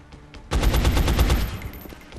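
A single loud rifle shot from a soldier in XCOM Enemy Unknown cracks sharply and rolls into a rattling, echoing tail that fades over about a second, close and without talk.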